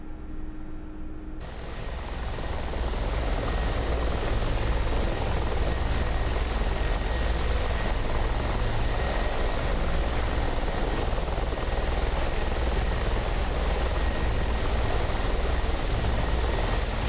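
Mi-24P Hind attack helicopter in the DCS flight simulator, its rotor and turbine roar rising briefly at the start, then holding as a steady, loud, broadband drone with no talking.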